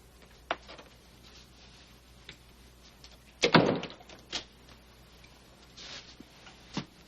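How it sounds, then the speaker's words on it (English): An indoor door shuts with a solid thunk, followed by smaller clicks and knocks as it is locked, surrounded by faint room noise and a few scattered taps. "Close the door and lock it."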